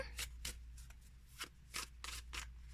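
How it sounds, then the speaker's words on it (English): Dungeons & Dragons tarot cards are shuffled by hand, giving a quiet series of about eight crisp riffling rubs in an irregular rhythm, close up with no talking. "let us be done with shuffling for now"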